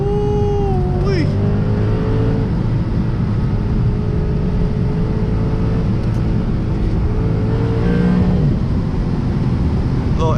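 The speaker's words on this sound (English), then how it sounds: "Get some exhaust noises in there. Engine revs, go bang bang." A Lexus RC F V8 rumbles and revs while driving on a mountain road, engine and exhaust droning close with pitch swings from shifts and throttle changes; a voice speaks over it.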